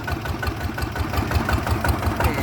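Engine of a kratae, a Thai farm cart vehicle, runs at a steady idle with an even, low, thumping rhythm that stays close and fairly loud throughout, with no talk over it.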